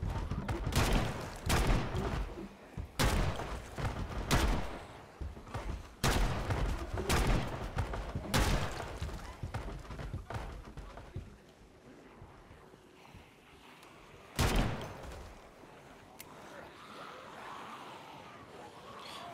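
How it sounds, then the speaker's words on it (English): Gunfire from a gun in the video game Project Zomboid: about nine loud, sharp shots in an irregular series, then a single later shot, with a faint windy background between them. "fire the gun a few times"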